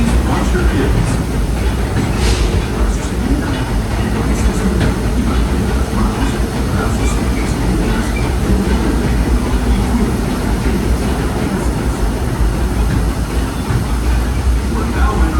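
The Disneyland Railroad train rolls along its tracks with a continuous low rumble and faint rhythmic clatter of wheels, heard from onboard and steady throughout, while announcements play over it.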